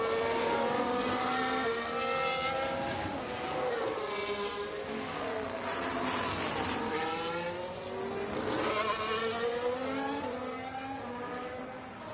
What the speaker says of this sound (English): Now Alonso leaves the garage, and so does Ocon. So both RBs coming out quickly